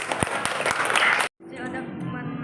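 Classroom audience applause at a computer hardware lesson, a burst of clapping mixed with voices that cuts off abruptly, followed by a quieter stretch of murmuring talk.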